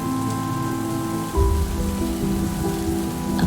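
Heavy rain pouring steadily onto surfaces, a dense, loud, continuous hiss with a brief low rumble swelling partway through, no voices.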